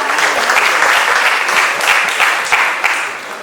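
Loud, dense applause from a crowd at a TV show's press conference on set, continuous clapping with a few sharper claps standing out, tapering slightly at the end.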